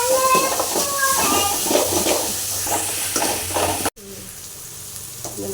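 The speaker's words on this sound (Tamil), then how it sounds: "வெங்காயம் நல்லா பொரிஞ்சிடுச்சு." Onions frying in a pan with salt, a continuous close sizzle with scraping stirs and clattering, then a brief cut to a quieter stretch of faint sizzling, with people talking over it.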